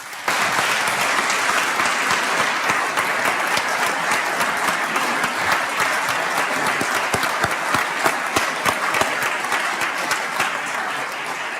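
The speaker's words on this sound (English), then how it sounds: "So please give yourselves and our statewide partners a big round of applause on a job well done." Sustained audience applause fills a hall during a governor's 2024 State of the State address, dense and steady throughout with a few sharper individual claps standing out near the end.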